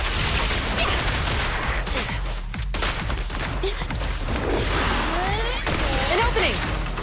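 Rapid bursts of gunfire in the video game Zenless Zone Zero, a dense loud fusillade running throughout with crashes and booms, mixed with game effects and brief voices.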